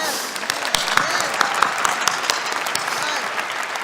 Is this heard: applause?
yes